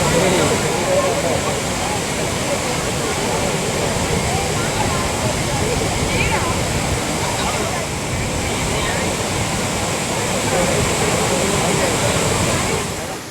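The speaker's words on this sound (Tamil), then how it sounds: "குற்றால அருவிகளில் வெள்ளப்பெருக்கு நீடிப்பதால்" Courtallam waterfalls in flood send out a loud, steady roar of rushing water, a dense unbroken wash of noise that holds constant for the whole stretch with no pauses.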